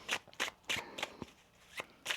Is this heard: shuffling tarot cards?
yes